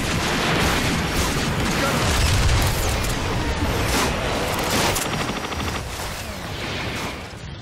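Rapid pistol fire rattles through a noisy Transformers: Fall of Cybertron multiplayer battle, sharp repeated shots layered over dense mechanical clatter and booms throughout.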